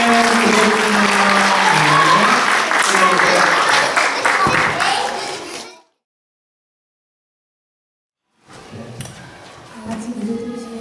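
Loud congregational applause during a Korean Presbyterian Sunday worship service fills the first several seconds, then cuts to silence before softer room sound returns.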